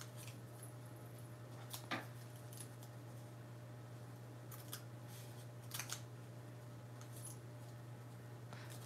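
Scissors snipping small fabric pieces for a no-sew Christmas snippet roll, a few quiet crisp cuts spaced apart over a steady low hum, no talking.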